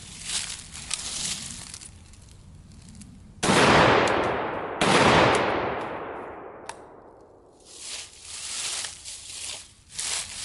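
A Bulgarian AKSU-74 rifle fires two loud, sharp shots outdoors, each followed by a long fading echo, with quieter rustling noise before and after.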